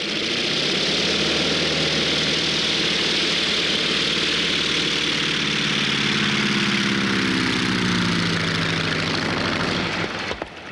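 A Gee Bee R-2 racing airplane's 500-horsepower engine running loud and close, a sustained deep roar with a shifting throbbing drone that swells then drops off abruptly at the very end, with no voices.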